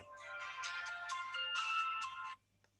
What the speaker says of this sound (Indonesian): saya ada telepon ya, sebentar ya